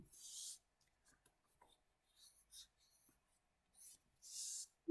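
An eraser rubs over pencil marks on paper in a drawing, producing short scratchy bursts of friction separated by quiet pauses, close and soft.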